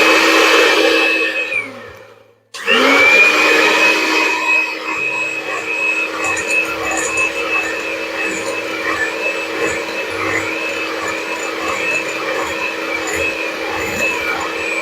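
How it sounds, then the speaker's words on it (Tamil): Electric hand mixer beating sugar, salt and eggs for a vanilla sponge cake batter, a steady loud whir that briefly cuts out, then restarts and runs continuously. "ஸோ இப்போ நான் வந்து சுகர், சால்ட்டு, எக் இதை 3 மட்டும் பீட் பண்ணிக்கலாம். ஃபர்ஸ்ட் லோ ஸ்பீட்ல"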